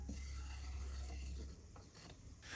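Valve being forced loose from an old fire extinguisher, heard as a close, steady grinding mechanical rub for about a second and a half, then lighter scraping and clicking metal noises.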